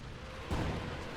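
A deep cannon boom from a Company of Heroes 2 battle bursts out over steady battle noise, followed by a rumbling tail that fades slowly.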